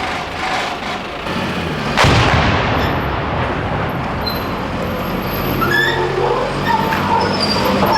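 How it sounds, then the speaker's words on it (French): Artillery shells exploding in Sarajevo: a sharp, heavy blast rings out, followed by a continuous loud rumble of distant fire and background noise throughout. "Ce sont des obus qui viennent d'où?"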